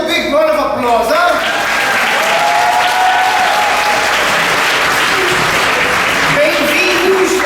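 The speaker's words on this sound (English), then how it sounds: "Let's give him a big round of applause, huh?" A crowd at a kids' show applauds loudly and steadily throughout, with voices and cheering mixed into the clapping.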